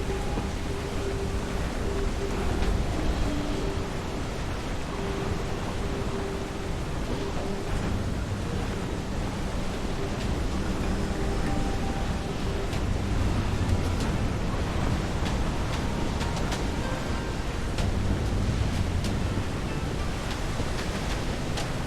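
Stormy sea waves surge and wash steadily under gusting wind aboard a sailing ship in the video game Assassin's Creed Black Flag, with a constant loud roar and faint shouted voices at times.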